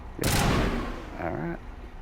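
A grenade explosion in the Mass Effect video game, one sudden loud blast that decays into a rumbling tail, followed by a brief tonal game sound.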